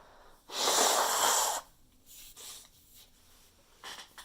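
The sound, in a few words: person blowing their nose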